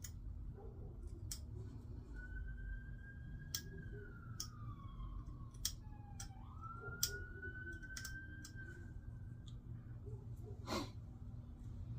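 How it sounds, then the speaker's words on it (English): A police car siren sounds faint and distant, sliding in odd broken glides and warbles for several seconds, with scattered sharp clicks from stone flintknapping nearby. "Sounds like the cop's siren's broken or something. It was doing some weird sounds."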